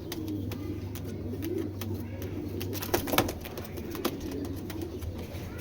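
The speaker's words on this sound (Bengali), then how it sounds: "এখানে দেখতে পাচ্ছেন একটা রোড মাস্টার নাপ্তা কবুতর।" A Road Master Naptha pigeon coos softly in low repeated calls against steady background hum, with faint chirps from other birds and occasional sharper clicks.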